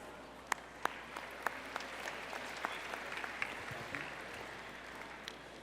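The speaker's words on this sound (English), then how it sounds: "Please give them another round of applause." An audience at the Iowa FFA State Leadership Conference business session gives a round of applause, a steady wash of clapping from a large hall heard at moderate distance, with a few sharp individual claps standing out.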